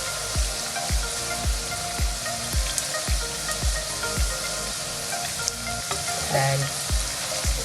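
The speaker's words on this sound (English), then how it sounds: "So I'm gonna give it a like couple of seconds to onion get brown," Onions fry to golden brown in hot oil for a Bengali fish and bean curry: a loud, steady sizzle with soft thumps of regular stirring running underneath.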